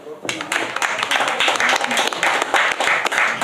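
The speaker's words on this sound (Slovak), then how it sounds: "Zatleskajte mu." An audience in a Nitra pub claps together for a few seconds, a steady patter of many hands following a brief moment of quiet.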